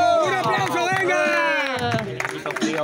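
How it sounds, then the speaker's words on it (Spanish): Crowd at a rap battle claps and cheers loudly and steadily, with shouting voices riding over the noise throughout. "¡Un aplauso, venga!"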